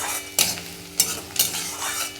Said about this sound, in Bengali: পেঁয়াজটা ভাজছি